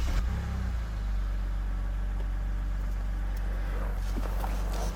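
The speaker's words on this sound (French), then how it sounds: "vais démarrer le moteur et on va faire tourner 10 minutes" A BMW 330i engine runs at a steady idle after a fuse and coil check, a low constant rumble with a brief rise at the start, no talk.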